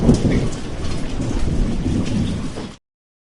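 Steady rain falls with low rumbling thunder in a thunderstorm, loud and continuous for under three seconds before cutting off abruptly.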